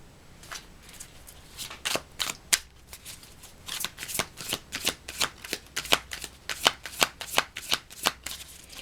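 A deck of tarot cards is shuffled close up, producing a rapid, steady run of crisp riffling bursts that grow denser toward the end, with no talking.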